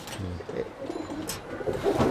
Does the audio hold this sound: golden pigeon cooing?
yes